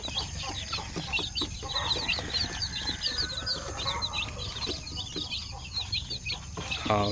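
Chickens and chicks in their coop cluck and cheep continuously at close range, with a steady chorus of peeping over lower hen calls and a brief crow-like call near the end.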